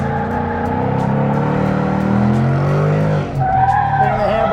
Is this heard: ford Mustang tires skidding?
yes